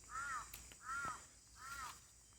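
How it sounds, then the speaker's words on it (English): A crow caws three times in an even rhythm at a temple on Koh Pha Ngan, Thailand, each call harsh and moderately close over a quiet background. "Hear that crow?"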